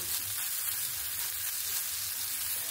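Dry-ground green peas sizzle steadily in hot oil while being mixed for a kachuri filling, a continuous close frying hiss with soft stirring underneath and no voices.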